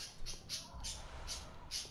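Crows in the video game Bloodborne give short, repeated squawks, about five bursts in quick rhythm, faint under a low background rumble.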